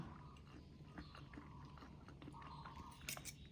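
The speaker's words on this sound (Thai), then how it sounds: "เจ๊ปานขอชิมหน่อยนะคะ อร่อยมาก" Someone bites and chews a soft Thai rice-flour turnip roll filled with peanuts, giving faint, close, soft wet chewing and munching sounds over a low background hum, without any talking.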